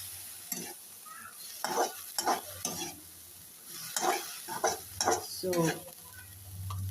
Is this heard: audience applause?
no